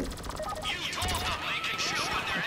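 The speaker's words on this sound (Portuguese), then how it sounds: "Aí eu vou atirando nos caras" Rapid bursts of gunfire crack through a shooter video game match as enemies are gunned down, dense and continuous with whizzing, sweeping effects layered over it and a voice talking underneath.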